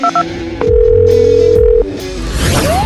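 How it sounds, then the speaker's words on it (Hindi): Phone call placed on speakerphone: a few short beeps, then a steady held tone lasting over a second, followed by faint clicks and line noise. "हमें इसी वक्त पुलिस को कॉल करना होगा। ये स्पीकर फोन पर है"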